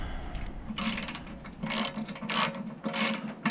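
Ratcheting wrench tightening bolts while a battery is installed on a snowmobile, heard as several short bursts of rapid clicking separated by brief pauses, fairly close.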